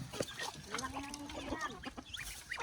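A mother hen clucks in short, scattered calls amid a busy Filipino backyard, with chicks nearby and people talking over the sounds.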